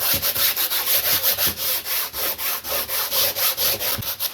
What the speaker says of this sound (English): sandpaper and just give it a good sanding.